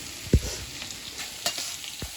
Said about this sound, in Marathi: ते गाजर टाकायचं, गाजर हलव